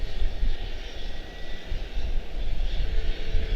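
An airliner departing from Charlotte-Douglas airport, its engines producing a continuous, rumbling roar that surges and wavers slightly, with no voices.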